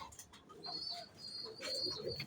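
Pigeons in a loft of cages, with soft, low cooing calls repeating a few times, faint and fairly distant against a quiet background.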